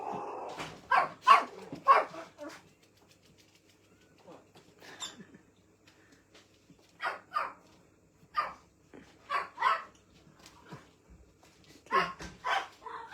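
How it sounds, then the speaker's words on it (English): A dog barks in repeated bursts, several sharp barks in quick clusters with short pauses, fairly close and loud in a home kitchen as children come inside. "is why the dog's barking"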